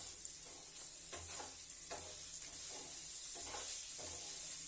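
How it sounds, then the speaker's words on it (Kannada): Vegetables for a paneer roll roast and fry in a pan with a steady, close sizzle and broad hiss, broken by periodic scraping stirs of a spatula. "ರೋಸ್ಟ್ ಆಗ್ತಿದೆ ಫ್ರೈ ಆಗ್ತಿದೆ"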